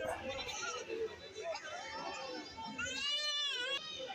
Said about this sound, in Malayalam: ഒരു രക്ഷയില്ല വണ്ടികളിൽ നിന്ന് ആടുകളൊക്കെ ഇറക്കിക്കൊണ്ട് പോകുന്നുണ്ട്